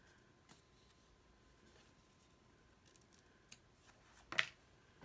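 Scissors cut through card for a handmade Christmas card. Quiet, sparse snips and small clicks sound close by, with one louder, sharper cut near the end.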